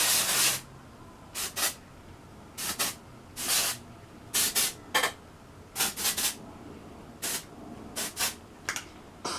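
Repeated short bursts of dry shampoo aerosol spray onto hair, some single and some in quick pairs, close and crisp, separated by brief quiet pauses.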